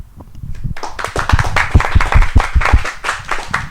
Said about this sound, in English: Can we get a clap for it first?